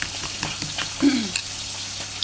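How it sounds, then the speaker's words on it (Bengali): Fish seasoned with salt and turmeric fries lightly in hot oil, a close steady crackling sizzle with small pops and a brief louder burst in the middle; no speech. "আর এখানে মাছটাকে খুব হালকা করে ভেজে নেব, কড়া করে ভাজবো না।"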